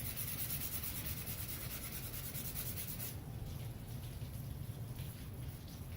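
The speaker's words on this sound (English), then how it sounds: "That's why you use like a 220, a low grit sandpaper, so I don't have to use a lot of pressure." Light, steady rubbing of 220 grit sandpaper over a painted cosplay prop, a soft continuous scratchy hiss that stays close and quiet throughout.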